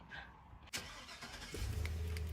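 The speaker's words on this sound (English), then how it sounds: "now we'll turn the car on and it'll self-calibrate" A sharp click, then the engine of a 2000–2006 Chevy Silverado pickup cranks and catches, settling into a steady low idle.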